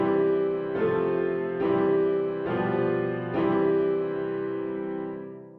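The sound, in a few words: musical example in a major key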